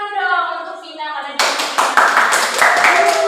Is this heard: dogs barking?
no